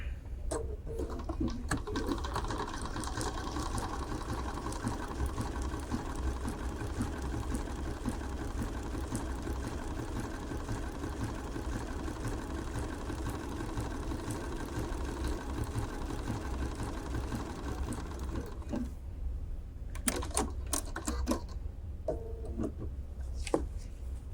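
A Bernina sewing machine stitches a large blanket stitch with a 4.1 mm length, running as a steady, fast mechanical whir for almost twenty seconds before stopping, followed by a few clicks.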